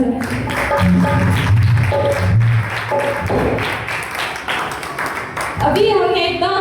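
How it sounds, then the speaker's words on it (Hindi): Congregation applause at a Thursday healing church meeting, a steady wash of clapping mixed with singing voices and music that continues throughout, ending as a voice rises near the close. "आए सब खुदा की इज्जत और जलाल के लिए भरपूर तालियां बजाएं।"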